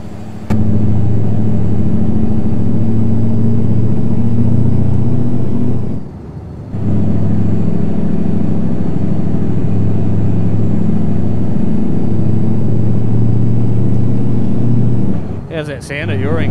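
Mack Superliner road train in American Truck Simulator, its engine a loud, steady low rumble and drone that runs almost the whole time with one brief dip, and a short higher burst near the end.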